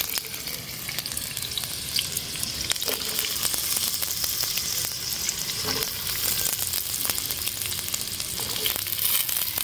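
Potatoes, carrots and beans frying in hot oil, a dense continuous close sizzle with crackling and occasional stirring, loud and steady throughout with no talk.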